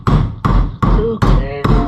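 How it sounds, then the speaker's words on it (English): A big hammer strikes a metal action-camera bracket on a Jeep Cherokee XJ five times in an even rhythm, each blow loud, close and ringing briefly. "Put some pressure on her. And just hammer her down."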